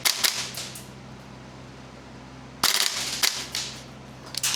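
Airsoft MWS MCX rifles firing in short bursts of sharp, snappy cracks, close and fairly loud, with a gap of steady low background hum between the two volleys.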